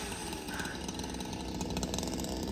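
A chainsaw cuts branches of a large backyard tree, heard as a faint, steady buzzing whine from some distance, with no talking.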